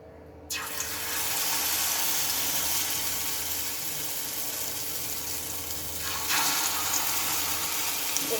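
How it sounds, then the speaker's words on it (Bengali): Bitter gourd fritters in an egg batter fry in oil with a loud, continuous hiss close by that swells sharply as they drop in and surges again later. "এরকম করে তেলে আমি এগুলোকে ভেজে নেব"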